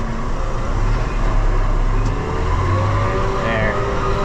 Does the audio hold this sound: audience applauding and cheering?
no